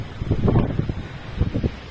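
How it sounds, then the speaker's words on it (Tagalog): Strong wind gusts buffet the microphone on an exposed hilltop peak during a morning hike, coming as rough low rumbling bursts in two brief waves. "Oh my god, it's so windy."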